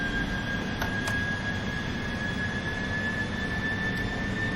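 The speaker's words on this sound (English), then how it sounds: "I'm going to push toga, go around thrust." Boeing 747-400 engines hold at go-around thrust during a missed approach, a steady loud jet roar with a sustained high whine and no talk.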